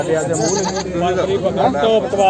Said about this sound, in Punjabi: ਲਓ ਯਾ ਬੱਕਰਾ ਲੈ ਕੇ ਆਇਆ ਬਾਈ